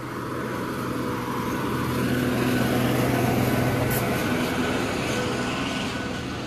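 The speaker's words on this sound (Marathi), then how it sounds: "एवढी गाडी जाऊ दे." A vehicle, likely a dump truck on a hill road, rolls past with a steady broadband roar of engine and tires that swells slightly mid-way and stays constant, with no talking.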